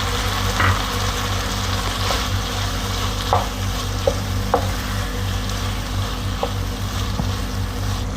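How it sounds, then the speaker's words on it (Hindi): Bell pepper (capsicum) and chicken stir-fried in a pan: a steady, loud sizzle runs throughout, broken by a few scattered clicks and scrapes of a spatula stirring, with no voices. "इसको हम थोड़ा सा भूनेंगे।"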